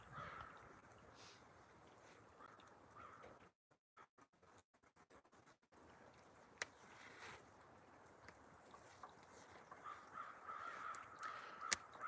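Crows caw in the woods of a maple sugar bush in snowy late-winter conditions, faint and distant calls over a quiet outdoor background, interrupted briefly by handling noise.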